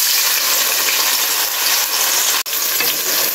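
Two cups of chopped onion frying in a cup of oil in a pot give a steady, loud, close hiss and sizzle, with one brief sharp click partway through.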